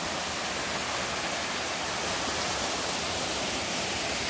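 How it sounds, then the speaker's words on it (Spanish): Water pours down a waterfall swollen by heavy overnight rain, making a steady, dense, loud rush with no breaks. "Miren qué bonito cae el agua aquí"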